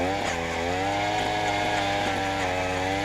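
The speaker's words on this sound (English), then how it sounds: "here we are running the 43cc 8-inch auger" A 43cc gas-powered earth auger with an 8-inch bit runs steadily at a gold mine, its two-stroke engine droning loud and close with a harsh, buzzing gear-driven whine.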